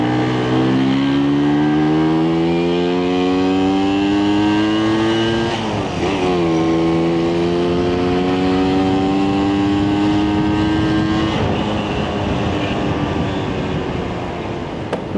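A 1976 Vespa Special 90 scooter engine labours loudly uphill, its pitch climbing steadily in one gear, dropping sharply at a downshift, then rising again under steady load, with no talking.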